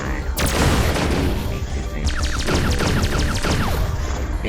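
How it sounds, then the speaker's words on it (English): Space battle sound effects of smugglers' refurbished turrets and slapdash cannons firing, with dense overlapping blasts and rapid zapping shots under a constant loud rumble. The barrage runs without a break. "The smugglers swarmed, firing refurbished turrets and slapdash cannons"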